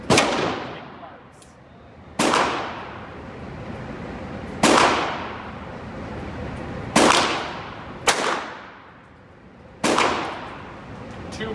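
.22LR rounds fired from a lightweight 12 gauge shotgun fitted with a sub-caliber adapter, six sharp outdoor cracks spaced a couple of seconds apart, each trailing off in a short echo.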